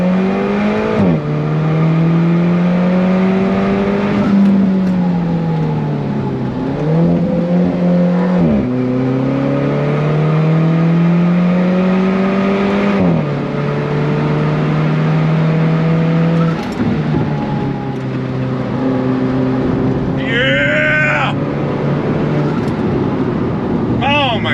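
A 2015 Alfa Romeo 4C Spider engine revs hard and climbs through the gears at full throttle, loud and close, with brief pitch drops at each shift.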